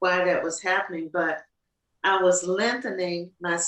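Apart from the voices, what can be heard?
No distinct noise like a dog, phone or traffic.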